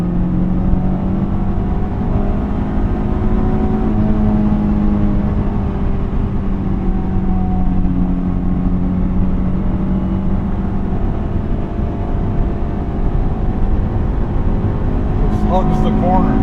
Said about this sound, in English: Rev matches and heel toe in this car is unmatched.